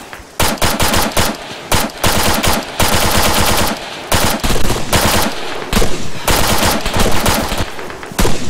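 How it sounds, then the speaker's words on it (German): Rapid automatic gunfire from the video game Arma III in a battle royale match, loud close bursts of shots in quick repeated volleys separated by short pauses, no talking over it. "Ich schieße jetzt."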